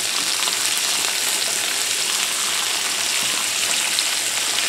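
Butter melting into rendered steak fat in a hot pan, giving a steady, close, dense frying sizzle that holds evenly throughout with no voices.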